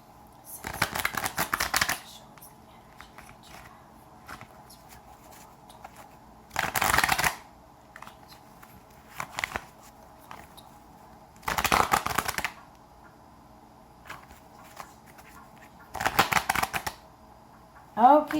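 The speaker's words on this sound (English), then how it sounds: "So we'll shuffle, we'll bless them together." Tarot cards are riffle-shuffled in five separate bursts, each a crisp fluttering rattle lasting about a second, separated by quiet pauses with faint rustling.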